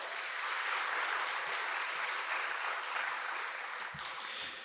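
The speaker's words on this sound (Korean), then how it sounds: "우리 박수로 환영해 주시기 바랍니다" A church congregation at a Sunday worship service claps to welcome a member, producing steady, moderately loud applause that continues evenly before tapering slightly.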